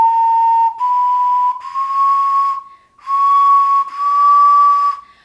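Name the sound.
cheap Amazon ocarina playing wonky high notes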